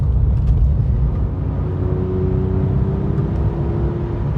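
Cabin drone of a Porsche 996 GT3 on the move, a deep steady engine rumble with a rising whine as it pulls through the gears, loud and close, no voices.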